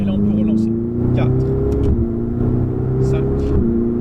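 A Ferrari engine pulls hard as the car accelerates on the road, a loud, steady drone rising in pitch with a short dip at each gear change, while people talk over it.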